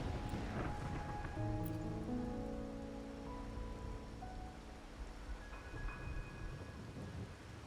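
Steady rain falls in the video game Wuthering Waves, a broad continuous wash with rumbling thunder-like tones and sustained musical notes layered over it, fairly loud throughout.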